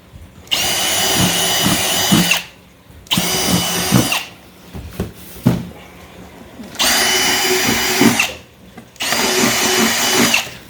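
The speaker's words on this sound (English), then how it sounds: "first thing we do is make sure we drill some holes in the box" A power drill drilling air holes in a shipping box runs in four long bursts with short pauses between them, loud and close, its whining motor pitch steady through each burst.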